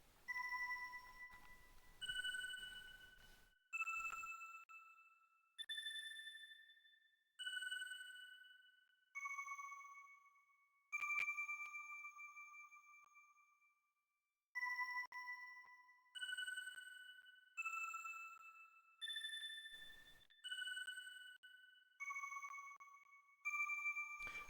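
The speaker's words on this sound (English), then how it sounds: "I love how they integrated those tones with the ending song." Bright, bell-like electronic tones from the ending of the Chrono Cross Remaster video game ring one after another. Each chime decays before the next, about a dozen in a steady rhythm, clean and alone.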